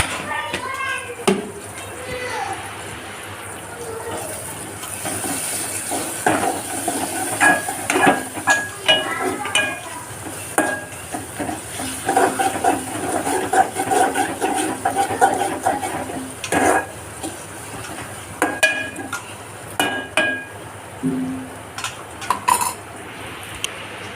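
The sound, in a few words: stirring food with turmeric in a pan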